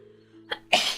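One sharp sneeze, a quick intake followed by a loud burst, set against a quiet low hum.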